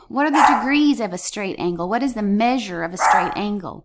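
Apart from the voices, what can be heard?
dog barking indoors at workers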